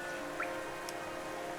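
Steady, hissing rain falls through the City of Tears in the Hollow Knight video game, a dense continuous wash with a few faint drip-like blips and no voices.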